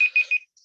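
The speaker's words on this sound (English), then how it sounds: "Oh, sorry. It's my alarm." A phone alarm chirps three quick, bright electronic beeps in an even rhythm, close and clear, then stops abruptly.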